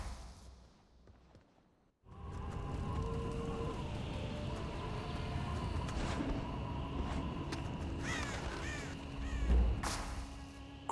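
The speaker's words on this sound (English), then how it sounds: "Crows." Crows caw in the video game Blade and Soul, harsh calls rising over a steady wash of wind-like ambience after a quiet start, with a louder swell near the end and no talking.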